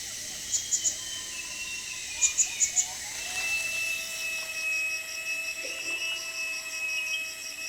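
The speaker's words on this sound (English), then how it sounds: "For small birds, a high-pitched call is one way to punch through the background noise." Small birds in a Borneo or Sumatra dipterocarp rainforest give sharp, very high-pitched chirps in quick clusters of three and four, standing out over a steady hum of insects and faint distant calls.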